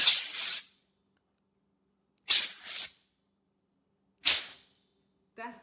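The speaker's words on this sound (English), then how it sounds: "you give it a good shake and you spray it." Three sharp bursts of hiss from a Pet Corrector compressed air dog training spray can, each under a second long with a clear gap between them. All three are loud and close, and a short spoken word follows at the end.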